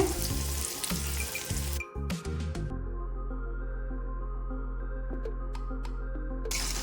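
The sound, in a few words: prawn fritters frying in oil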